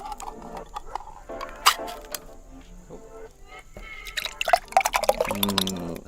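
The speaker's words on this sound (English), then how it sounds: "I can already hear the soup kind of boiling a little bit" Soup heats in an electric camping kettle pot in a forest, giving irregular small bubbling pops and drips that grow busier toward the end, close and fairly quiet.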